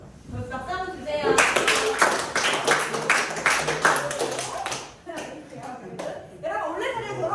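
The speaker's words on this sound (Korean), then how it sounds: "그럼 박수 한번 주세요" A small group at a speech club session claps in a lively burst of hand claps that thins out and then picks up again, with voices talking over and around it.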